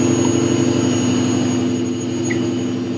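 A supercharged BMW E39 M5 engine runs steadily at idle, a loud, constant low drone with a rough pulsing texture that holds without change throughout.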